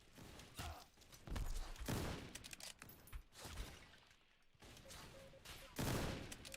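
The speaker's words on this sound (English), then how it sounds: "I don't know where those bullets are coming from" Bursts of rapid gunfire crackle through a multiplayer shooter match, coming in several loud clusters separated by short lulls, with faint game tones in the background.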